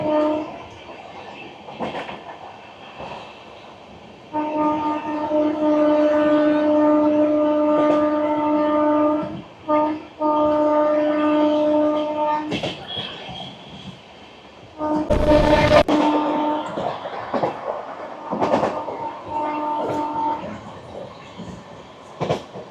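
Sairang–Kolkata Express inaugural special racing through stations near Farakka, a loud steady rumble and rail clatter with sustained multi-tone horn blasts repeating over much of the run, no voices.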